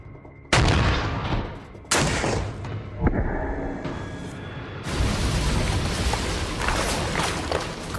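A Soviet WW2 14.5mm anti-tank rifle fires at 20mm IFV armored steel: two loud, sharp reports about 1.4 seconds apart, a smaller crack, then a sustained roaring blast with a lingering rumble.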